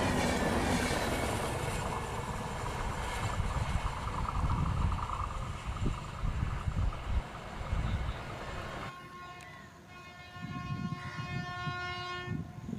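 An Indian Railways train bound for Howrah, hauled by a WAP-7 locomotive, rolls through a curve at speed with a loud, continuous roar of wheels and cars, followed by a sustained horn blast near the end.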